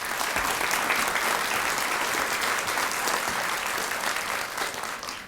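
An audience at an elementary school awards evening applauds a former District 17 state representative as he is welcomed, a dense, steady wash of clapping that fills the whole moment and tapers slightly at the end.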